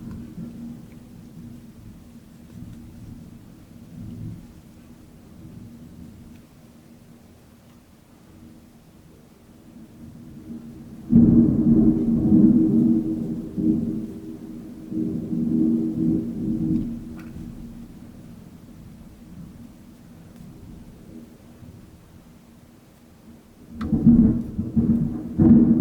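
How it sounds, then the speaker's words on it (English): A thunderstorm with rain gives a low, steady rumble, then two loud, deep rolls of thunder, one long and one shorter near the end. No one talks. "I like thunderstorms"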